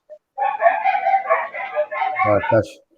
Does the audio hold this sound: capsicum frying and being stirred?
no